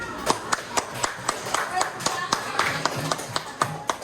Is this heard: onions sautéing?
no